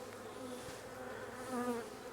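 A steady close hum of honey bees hangs over a teaching apiary, one insect whining louder near the end as it passes.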